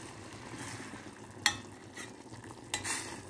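Leftover squid reheating in a pan gives a steady low sizzle, with a sharp clink of a utensil against the pan and a couple of softer stirring scrapes.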